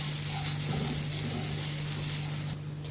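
Spoon stirring a cooking mixture in a pan on a stove, a soft scraping and faint sizzle with a steady low hum, close and continuous, dropping slightly quieter at the end.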